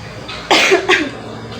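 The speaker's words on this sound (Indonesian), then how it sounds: "mohon maaf ya, saya batuk-batuk" Two harsh coughs close together from a teacher in a classroom, loud and near, with a short pause between them and no talking.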